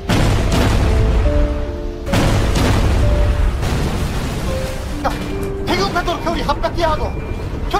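A warship fires a warning missile in a Korean drama, a heavy low roar and boom filling the first two seconds and returning briefly, beneath sustained dramatic music with tonal stingers and possible voices.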